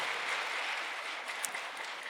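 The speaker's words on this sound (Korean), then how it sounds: "하나님께 감사와 영광의 박수 올리겠습니다" A church congregation at a Sunday worship service gives a brief round of applause, the clapping soft and somewhat distant, a continuous wash with one sharper clap near the middle.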